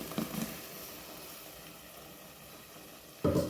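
Ground onion-tomato paste for vendakkai kaara kuzhambu sizzles faintly in a pan as it is stirred, with a soft continuous hiss broken by brief scrapes at the start and a louder burst near the end.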